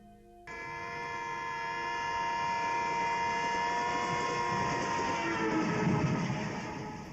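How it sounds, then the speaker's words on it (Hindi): A railway engine approaching a station sounds a long, sustained whistle that starts abruptly and holds steady and loud for several seconds, with rumbling rail noise building underneath. "एक इंजन सीटी बजाते हुए आपकी ओर आ रहा है"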